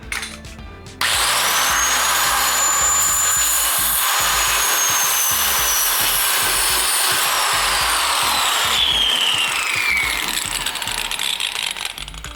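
A power tool cuts off a stuck, broken axle bolt on a Porsche 914, a loud continuous high grinding whine that runs steadily for about eleven seconds after a brief start, close and alone.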